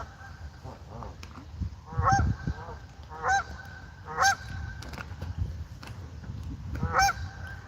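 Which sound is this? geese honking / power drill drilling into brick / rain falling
geese honking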